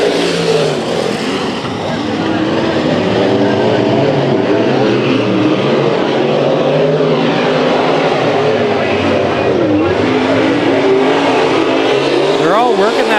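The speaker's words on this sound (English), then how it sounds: "Lots of modifieds out here tonight." Modified race cars roaring around the Bakersfield Speedway oval in a night heat, loud sustained engine drone with rising and falling revs as cars pass, under continuous announcer commentary.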